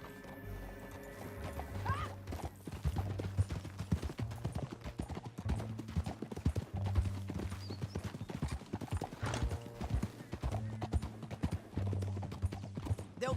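Rapid clip-clop of galloping horse hooves in the video game Red Dead Redemption 2 drums steadily throughout, with a horse whinnying and a low rumbling background.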